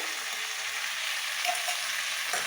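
Fish curry sizzles as it is stir-fried in a pan with ground coriander-leaf paste, a continuous close frying hiss with faint scraping of stirring underneath.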